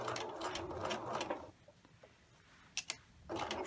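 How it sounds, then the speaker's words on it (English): A sewing machine back stitches along a slotted seam, close rhythmic needle chatter in bursts that stop for a quiet pause with a couple of sharp clicks, then resume. "We'll back stitch"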